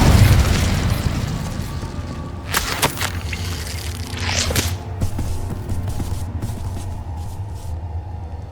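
An Incendio fire spell cast in the video game Hogwarts Legacy, a heavy whooshing boom at the start. A couple of crackling flame bursts follow and fade into a low rumble, fairly loud, with no talking.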